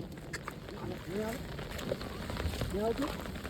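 Rain falls steadily on surfaces during a storm in Gujarat, a soft continuous hiss with a wash of running water, while a voice speaks over it.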